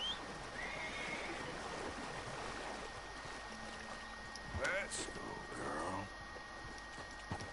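A horse whinnies in Red Dead Redemption 2 amid flowing water and ambient game sound, a short neigh rising over the steady background while a person talks.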